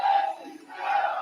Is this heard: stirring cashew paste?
no